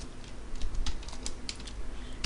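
Rapid, uneven clatter of typing on a computer keyboard while Java code is entered, close and steady across the whole stretch with bursts of keystrokes and no talk.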